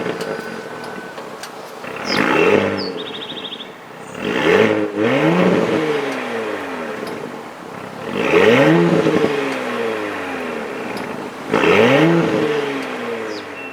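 A 2018 Audi SQ5 engine turns over and revs: several rising and falling throttle blips with a deep, tonal exhaust note, close and loud, settling to a steady idle between bursts, with no talking.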